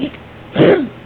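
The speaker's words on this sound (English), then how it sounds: "I woke up to this horrible sounding, chesty, hairball-like cough" A cat's single short, raspy, chesty, hairball-like cough bursts out close up, harsh and throaty, with quiet before it.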